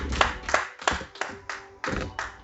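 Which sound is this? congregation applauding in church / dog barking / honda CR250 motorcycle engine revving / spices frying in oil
congregation applauding in church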